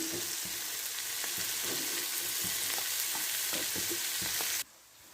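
Bitter gourd (karela) slices fry in a pan with a steady, dense sizzle and occasional soft stirring clicks, until the sound suddenly drops away.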